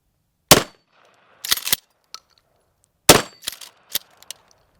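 A 12 gauge shotgun fires two loud, close blasts about two and a half seconds apart, each followed by quick metallic clacks and clatter from handling the gun.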